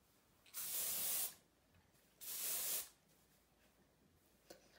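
Hairspray is misted onto short hair in two separate bursts of bright, close hissing, each about a second long, with quiet handling sounds afterward.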